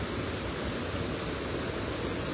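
A strong river current rushes steadily during cast net fishing, a dense, even wash of flowing water that stays close and continuous with no voices over it.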